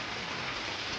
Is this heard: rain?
yes